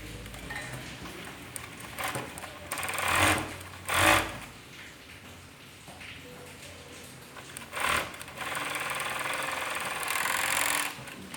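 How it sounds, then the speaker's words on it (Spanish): An overlock serger sewing machine joins the back pieces of a men's boxer, running in short close bursts with pauses between stitching runs. "De la parte trasera vamos a unirla con la fileteadora."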